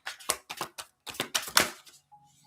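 Tarot cards being shuffled in bursts of crisp riffling and flapping, several quick rounds close by, then fading to quiet with a faint hum at the end.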